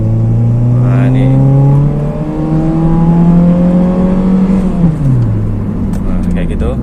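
Honda Jazz engine revving during a comparison with a Toyota Yaris: a loud, close idle hum climbs steadily in pitch, holds, then drops back down, with a few faint clicks near the end.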